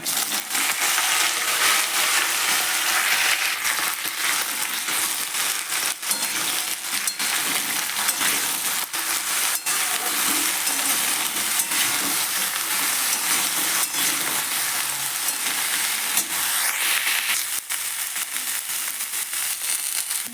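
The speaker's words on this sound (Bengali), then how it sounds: "পর আমি সব সবজিগুলো একসাথে ভেজে নিচ্ছি" Mixed vegetables frying in hot mustard oil tempered with black cumin seeds and dried red chillies, a loud, steady hiss and crackle running unbroken throughout.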